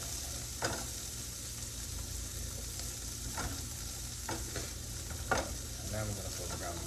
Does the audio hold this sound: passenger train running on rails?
no